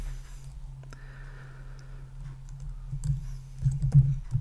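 Typing on a computer keyboard while entering a formula: a steady patter of light key clicks over a low hum, growing denser and louder toward the end, with no talking.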